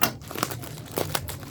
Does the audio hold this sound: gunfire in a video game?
no